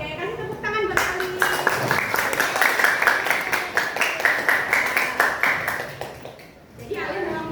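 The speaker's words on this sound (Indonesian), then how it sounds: "kasih tepuk tangan buat Ali" A school class claps for a classmate, a lively burst of many hands starting abruptly and running for several seconds before dropping away, with a voice heard just before and after.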